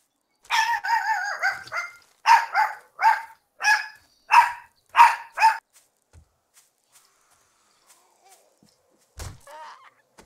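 A dog barks near the front door of a house in a rapid run of about eight loud, sharp, evenly spaced barks, then goes quiet apart from a few faint knocks.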